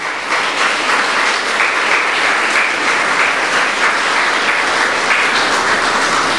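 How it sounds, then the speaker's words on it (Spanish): A church congregation claps their hands in praise, a dense, steady, loud wash of applause that holds evenly from start to finish with no voices on top. "¿Le quiere dar palmas al Señor?"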